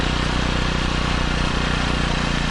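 Kawasaki Eliminator 125 motorcycle riding on a cool spring day, its exhaust picked up by a microphone mounted just behind the muffler outlet, a steady loud engine drone mixed with dense wind rush throughout.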